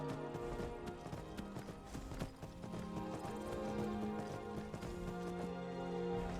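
A horse in the video game Skyrim trots with steady, rhythmic hoof clops over soft, quiet background music.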